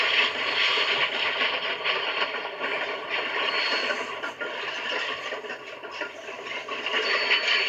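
A narrow-gauge train with orange cars pulls into Alamosa in late afternoon, giving a steady mechanical clatter and grinding of wheels and couplings that holds at a fairly even level throughout.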